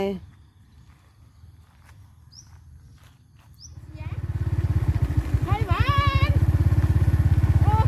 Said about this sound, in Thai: จะขี่มอเตอร์ไซค์ค่ะไป